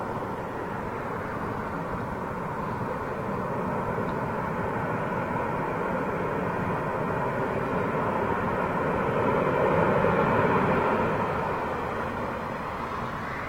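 Jet airliner rolling along the runway at Heathrow Airport, London, a steady broadband engine roar heard from a distance that swells slightly near the end, with no talk over it.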